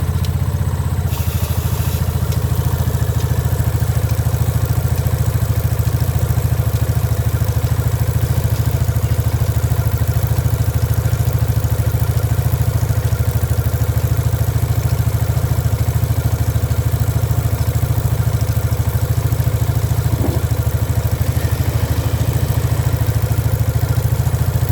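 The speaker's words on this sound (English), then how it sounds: "I'll start the bike." A motorcycle engine starts and idles steadily nearby, a constant low throbbing rumble with mechanical clatter that stays loud and unchanging throughout.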